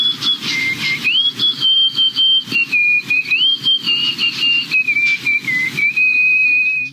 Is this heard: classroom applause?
no